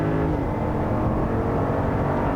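A 2022 Jeep Grand Wagoneer with the 6.4 engine accelerating hard, a loud, steady, low engine drone that fills the whole moment from inside the vehicle.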